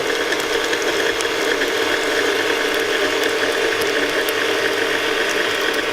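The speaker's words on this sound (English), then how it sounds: "And now I will go ahead and turn the mixer on." An electric mixer beats wet batter ingredients and egg, giving a loud, steady mechanical whirr with a faint rattling texture that runs unbroken from start to finish, with no voices.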